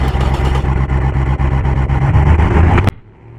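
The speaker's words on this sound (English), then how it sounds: "Let's try it without the exhaust mufflers." A car engine runs with no exhaust mufflers and no catalytic converter, a loud, rough, pulsing rumble that rises, then stops abruptly near the end.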